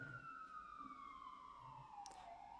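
Emergency vehicle siren passing outside, a single wailing tone sliding steadily downward in pitch as it goes by, moderately distant with faint traffic rumble underneath and a brief click near the end.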